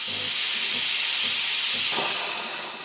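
A loud, steady steam hiss blasts close by from the steam wand of a Sage/Breville Barista espresso machine, then trails off near the end, with no voices over it.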